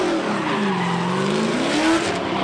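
A drift car roars past loudly, its engine note rising and falling in a continuous sweeping howl with hints of tire squeal, heard up close with no talking.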